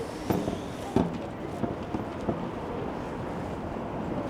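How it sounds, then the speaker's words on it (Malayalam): Strong, cold outdoor wind in Japan buffets the microphone in low, rumbling gusts with a few sharper bumps, a steady roar filling the whole moment. "ഭയങ്കര തണുപ്പും ഭയങ്കര കാറ്റുമാണ്, ഒരു രക്ഷയില്ല"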